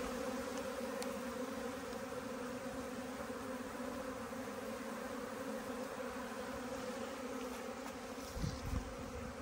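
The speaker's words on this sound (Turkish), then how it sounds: "Şöyle dağıldı arı." Honey bees hum in a dense, steady drone around a hive as the colony scatters, close and continuous, with a brief low thump near the end and no talking.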